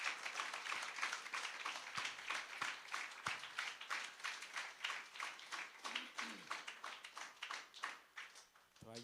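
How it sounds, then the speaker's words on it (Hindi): Church congregation at a Hindi worship service claps hands in thanks: a run of sharp, fairly regular claps with a few louder isolated smacks, moderately close, and some faint voices mixed in. "ये हाथ ताली दे के धन्यवाद दे।"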